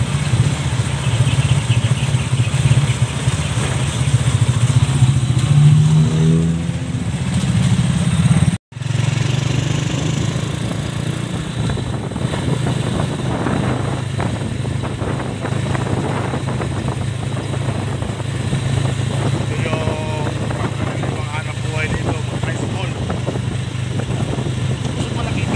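A motorcycle tricycle engine drones steadily while riding in the Philippines, a continuous close mechanical hum with a brief dropout partway through, and people talk over it.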